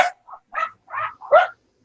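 Dogs barking nearby in four or five short, sharp bursts with brief gaps between them, with no voices over them.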